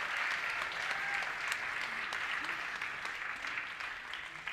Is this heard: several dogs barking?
no